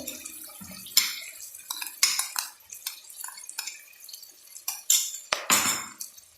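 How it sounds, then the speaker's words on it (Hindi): Chopped ginger and garlic, two tablespoons, dropped into onions frying in a pan over medium-high flame for matar sabzi: close clinks of a spoon against the pan and sizzling scrapes in short irregular bursts, with no voices. "अब हम इसके अंदर अदरक लहसुन ऐड कर देंगे।"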